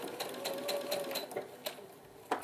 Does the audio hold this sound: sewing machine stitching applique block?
yes